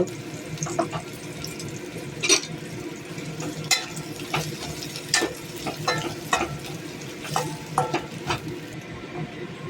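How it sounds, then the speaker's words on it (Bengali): Onions frying in a pan of oil, with steady close sizzling broken by irregular clinks and scrapes from stirring over about ten seconds; no voices. "পেঁয়াজগুলো ভাজতে দিলাম।"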